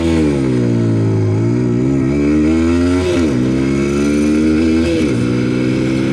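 A TVS Apache RTR 160 4V motorcycle accelerates hard in first gear, its loud engine note climbing steadily in pitch, dipping briefly at shifts near three and five seconds, then rising again, close and alone with no talk.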